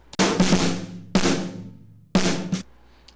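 A Decapitator distortion plugin on circuit E heavily saturates three loud, close hits about a second apart, each a harsh, buzzy burst that decays quickly.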